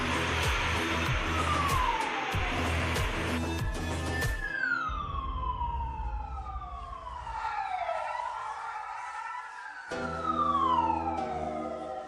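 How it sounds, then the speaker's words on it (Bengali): A loud police siren wails, sweeping up and down in pitch several times, with a vehicle rumbling underneath. "পুলিশের গাড়ির আওয়াজ শুনে"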